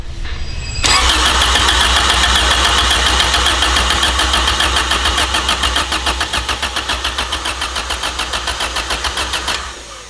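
A Honda CRX with a swapped B18 engine fires up for the first time: a short crank, then it catches and settles into a loud, close, steady idle with a rhythmic pulsing toward the end.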